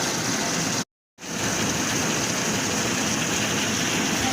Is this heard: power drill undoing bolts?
no